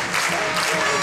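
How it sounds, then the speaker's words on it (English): Coventry Blaze fans cheering and applauding at the Skydome during an ice hockey game against the Cardiff Devils, a loud dense crowd roar filling the arena. "Skydome on its feet, the Blaze fans just cheering Coventry across the line."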